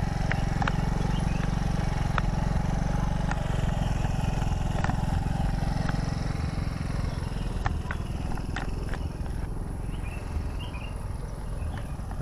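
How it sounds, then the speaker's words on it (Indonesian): A motorcycle engine drones steadily at a moderate distance, a constant low rumble with faint clicks and insect-like chirps above it. "Ini ada suara motor"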